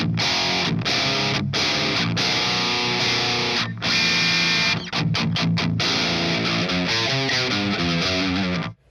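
Heavily distorted electric guitar through a high-gain amp, without the Boss HM-2W pedal engaged, plays loud, sustained chords with brief choppy stops, ending in a quick run of rhythmic palm-muted notes.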